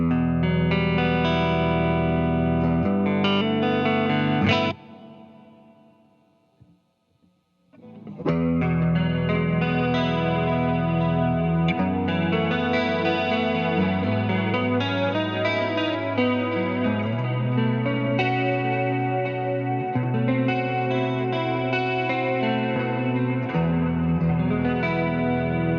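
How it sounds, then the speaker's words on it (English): An electric guitar runs through a BOSS IR-200 amp and cab simulator pedal with stereo ping pong delay and modulation, giving chorus-like shimmer and echoing repeats, loud and continuous apart from a short near-silent gap early on. "delay you were hearing before has kind of got like a little bit of a ping pong thing. But as soon as I add a little bit of the modulation"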